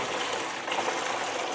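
Fresh water poured from a bucket into the reservoir of a glass saw, a steady broadband gush that runs continuously and fairly close throughout.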